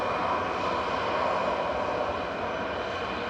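An EasyJet airliner departing Manchester Airport drones with a steady, fairly loud engine roar that holds level through the short stretch, with no speech over it.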